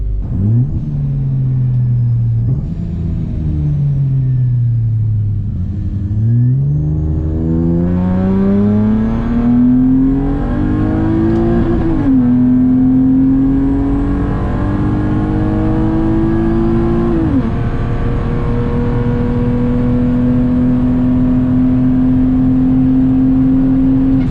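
A boosted Acura TL-S accelerates hard through second, third and part of fourth gear, engine note climbing steadily with brief dips at each shift, loud and close throughout with no talking.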